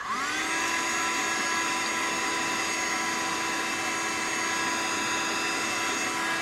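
A heat tool drying Distress Oxide ink on card whirs up at the start, then holds a steady, loud blowing whine with a constant tone throughout.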